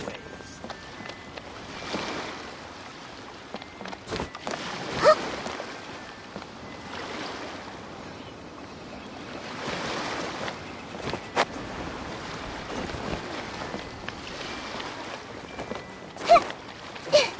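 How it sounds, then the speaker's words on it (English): Gentle ocean waves wash in the open-world video game Genshin Impact, a steady soft surf rolling in low swells with occasional faint splashes and light taps over a continuous watery hiss. "Sound of the ocean waves."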